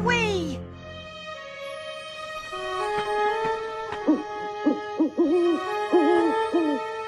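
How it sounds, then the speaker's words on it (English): An owl hoots repeatedly at night in an animated scene, a series of soft, wavering hoots in an uneven rhythm, layered over sustained orchestral music after a brief voice at the start. "Just an owl."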